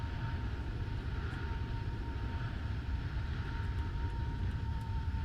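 An Airbus A330 airliner's engines drone steadily as it descends in the Roblox game Flightline, a constant rumbling hum with a thin tonal whine and faint ticks above it and no talk.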